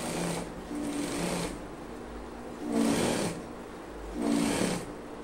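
Sewing machine stitching down a trouser leg during a leg alteration, running in steady bursts with short pauses between, a close mechanical whir with rhythmic needle clatter and no talking.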